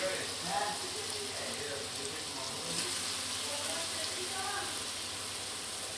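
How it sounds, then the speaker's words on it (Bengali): Marinated chicken goes into a hot pan and sizzles with a steady, moderate frying hiss throughout, while someone talks over it. "আমি চিকেনগুলো অ্যাড করব এবার আস্তে আস্তে।"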